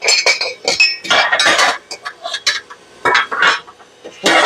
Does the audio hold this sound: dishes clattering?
yes